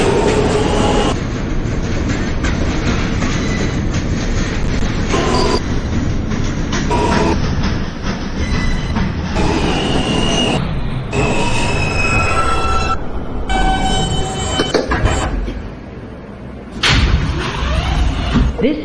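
A Brooklyn-bound J local subway train in New York runs loud and close between stations, with steady rumbling, wheel squeal and clattering rail noise throughout, briefly dipping before surging again near the end.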